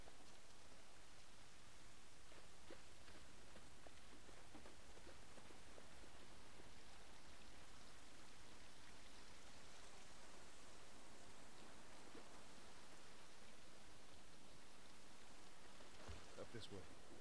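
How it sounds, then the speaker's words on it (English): Steady rain falls outdoors in The Last of Us Part 1, a soft continuous hiss with faint rustles and a few brief louder taps near the end. "It's raining."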